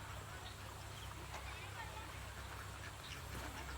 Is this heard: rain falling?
no